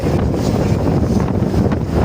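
Loud, constant wind buffets the microphone with a heavy low rumble and gusty hiss, nothing else audible.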